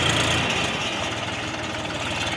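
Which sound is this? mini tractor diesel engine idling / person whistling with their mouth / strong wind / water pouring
mini tractor diesel engine idling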